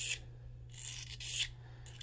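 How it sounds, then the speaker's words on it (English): Steel blade edge drawn across a fine sharpening stone, giving a few soft rasping strokes in a steady rhythm, close and fairly quiet. "I'm keeping sharpening this, and this stone is actually working."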